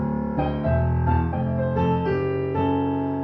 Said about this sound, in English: I'm going to play the riff on its own